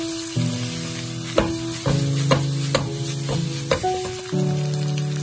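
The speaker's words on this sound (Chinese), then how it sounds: "再把鸡蛋青椒加进来，继续开大火，快速的给它翻炒一下" Eggs and green peppers sizzle steadily in a wok over high heat, under a constant humming tone. A spatula clacks and scrapes against the pan at irregular intervals.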